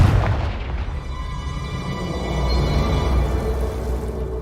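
A Confringo spell explosion in a video game, a loud, deep blast followed by a rolling rumble and a slowly fading roar, close and without talk.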